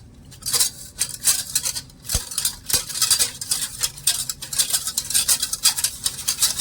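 A spoon stirs a sugar and cornflour mixture in a bowl for a watermelon dessert, giving quick irregular scraping clicks and taps against the container that continue throughout without talk.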